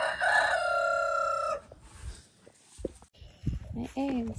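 Chickens in a hen house: a loud, drawn-out crowing call rings out first, then quieter scattered clucks and shuffling footsteps follow while a person talks nearby.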